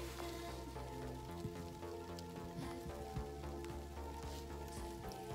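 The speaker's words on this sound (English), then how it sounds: "Rain's starting to pick up. You hear it." Rain patters steadily on a Jack Wolfskin Chinook 2 tent during winter backpacking in the LBJ National Grasslands, a dense, even spatter with scattered louder drops and no talking.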